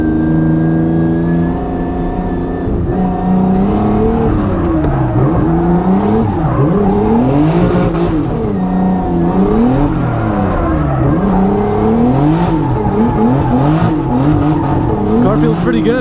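A race car heads out for a practice session, its engine loud and close with repeated rising and falling revs through the gears, continuous throughout.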